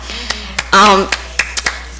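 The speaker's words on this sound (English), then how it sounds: "Give you a little clap." A few scattered hand claps at a school board meeting, quick and uneven, mixed with a brief voice in the middle and a short spell of sustained tone, fairly close and loud.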